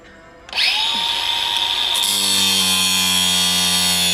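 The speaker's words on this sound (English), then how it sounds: "Angle grinder, must have tools." Angle grinder fitted with a cut-off wheel spins up abruptly, settling into a loud, steady high-pitched whine that runs unbroken to the end.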